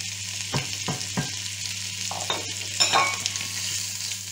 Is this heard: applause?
no